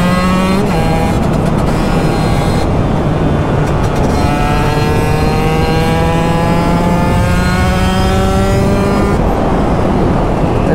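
Husqvarna 125 TX motorcycle ridden flat out in sixth gear at top speed, its two-stroke engine droning loud and steady up close, pitch climbing and shifting through the run with constant wind rush.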